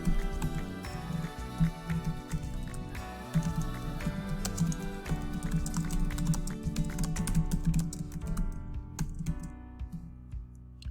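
Rapid, irregular keystrokes on a computer keyboard, close and clear, continuing in bursts with no talking.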